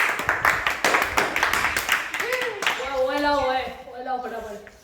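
A quick run of sharp hand claps rings out during a lighthearted Gujarati laughing challenge, then gives way to voices and laughter near the microphone.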